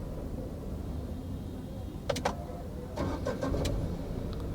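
A Tata Nexon with a new petrol engine, idling low and steady, with a pair of sharp clicks and then a short cluster of mechanical clacks as it is restarted.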